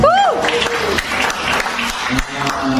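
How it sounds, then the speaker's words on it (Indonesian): Crowd at a religious gathering claps together, a steady wash of applause from many hands, with a rising tonal sweep at the start and some voices mixed in. "tepuk tangan buat Tuhan Yesus"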